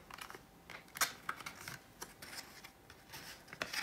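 A silicone phone case is unboxed up close, with faint scattered crinkles, scrapes and small taps of packaging being opened and handled in a quiet room.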